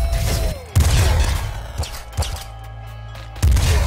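The super slug gun fires in the video game Nuclear Throne, giving three or four heavy booming blasts spaced about a second apart, each a loud thump with a bright crack over a low rumble, and no talk.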